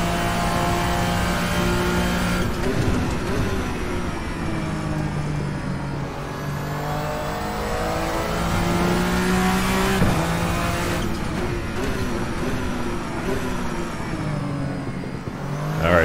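Vendetta V60 race car in the Virtual Racing Cars sim game, its engine droning steadily and loud for the whole stretch, pitch rising and dropping through gear changes with brief shifts, no talking.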